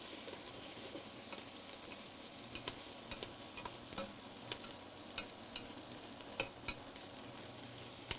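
Butternut squash soup with coconut and ginger is stirred in a sizzling pot, a steady soft hiss broken by light, irregular spoon clicks and scrapes, close and fairly quiet.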